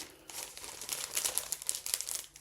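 Thin plastic bags crinkle and rustle up close in bursts of crackly handling, busy and uneven for a couple of seconds with no talking.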